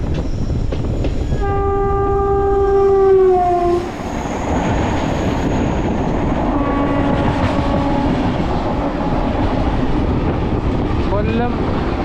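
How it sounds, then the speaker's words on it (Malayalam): An Indian train bound for Kollam Junction in Kerala approaches and passes, sounding a long, loud horn blast before its heavy rumble and rhythmic wheel clatter roll by, with voices faintly present. "ഒരു ട്രെയിൻ വരുന്നുണ്ട്."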